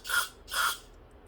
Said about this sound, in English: When you spray into your low idle circuit, you should see fuel shoot across.